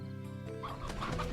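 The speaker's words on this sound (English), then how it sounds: "Chicken on the loose." A chicken in the video game Slime Rancher gives a few short clucks near the end, soft and close over a low tonal game-music background.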